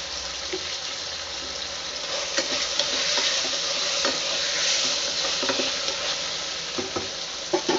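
Vegetables for a butter bean white kurma sautéing in a pan, a steady close sizzle broken by spatula scrapes and clinks, with no talking.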